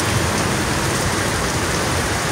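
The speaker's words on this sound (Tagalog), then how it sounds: "Tuloy-tuloy ang ulan." Heavy, unbroken rain pours down during a storm with flooding in Taguig, a dense close hiss that fills the whole moment without pause.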